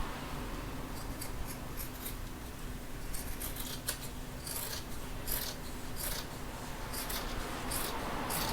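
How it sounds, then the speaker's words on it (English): Scissors trim the fabric seam allowance on a sewn bag lining, a steady close rasping snip repeating through the clip over a constant background hum. "I'm just going to trim back the seam allowance, but I'm going to taper off at these sections here"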